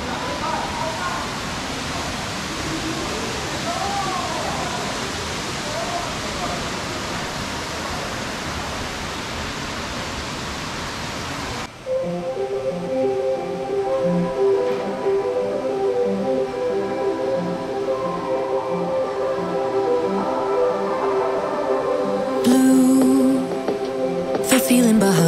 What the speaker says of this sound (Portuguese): chegamos aqui na cascata do Poço Azul.